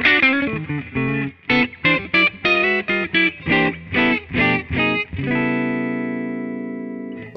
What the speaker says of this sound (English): Here's the neck pickup, just clean,